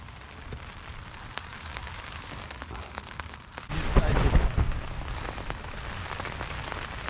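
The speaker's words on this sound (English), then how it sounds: "Raining and windy in the same time." Rain falls steadily with gusts of wind at an early spring campsite in Derbyshire, a constant patter that swells into a louder, rougher gust midway before settling back.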